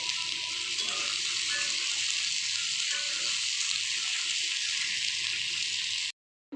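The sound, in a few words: water poured into frying spiced curry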